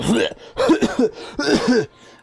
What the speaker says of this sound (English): you suddenly hear this spluttering, coughing sound